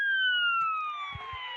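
A police car siren sounding in a Roblox video game, two steady wailing tones sliding slowly downward, loud and continuous, with a couple of low thumps near the end.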